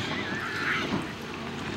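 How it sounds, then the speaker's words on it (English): Waterfowl calling near a lake at Chelan, honking, goose-like calls rising over a steady background hum of water and wind, fairly close and continuous for a couple of seconds. "Hey, who are these ducks?"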